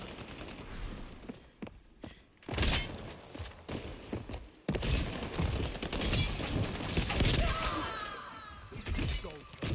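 Rapid bursts of video game gunfire crackle and rattle through a multiplayer bomb-defusal match, with dense automatic volleys and impacts that swell and fade over several seconds, mixed with game audio.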